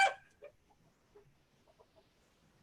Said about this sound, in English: I have some wild chickens and rooster in the yard